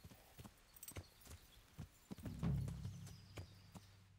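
Horse hooves clip-clop at a walk in the video game Kingdom Come Deliverance, a series of soft, irregular hoof thuds nearby with a brief low snort or rumble in the middle, fairly quiet overall.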